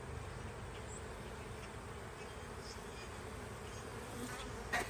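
Honeybees swarm around an open spring hive at dusk, a steady dense buzz of many wings close by that holds at one level throughout, with no talk.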